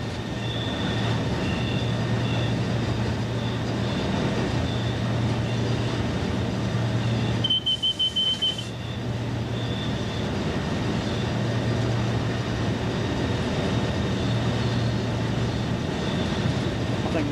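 A Class 47 diesel locomotive rolls along the rails from Bredbury stone sidings toward Stockport, heard from inside the cab as a steady, loud engine drone and wheel rumble, with a brief high squeal partway through and occasional talk in the cab.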